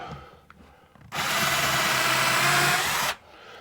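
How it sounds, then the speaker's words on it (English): A power drill pre-drilling a hole for a stair baby gate whirs steadily for about two seconds, starting abruptly and cutting off, loud and close, with quiet surroundings before and after. "So I'm going to pre-drill this."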